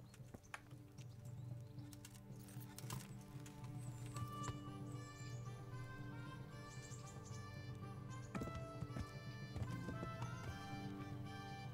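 Rhythmic clip-clop of horse hooves trotting steadily in the video game Kingdom Come: Deliverance, mixed with a sustained game music bed and occasional chirps, with no talking.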